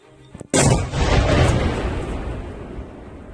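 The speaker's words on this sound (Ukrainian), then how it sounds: "Підірвали вибухотехніки і збиту російську ракету" A downed Russian missile is detonated under control: a single powerful blast booms suddenly after a moment of quiet, followed by a long rumbling roar that slowly fades.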